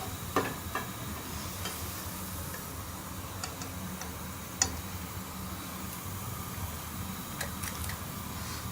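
Bottle gourd (lauki) kofta frying in oil, a quiet steady sizzle with scattered soft ticks and small pops, no voices.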